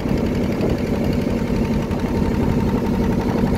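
Boat engine running on the Mahanadi river, a steady, close, low throbbing drone that holds constant throughout with no talk over it.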